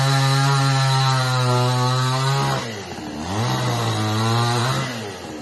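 A chainsaw cuts a young coconut tree, its loud steady whine close by, dropping in pitch as the chain bogs into the trunk midway, then revving back up.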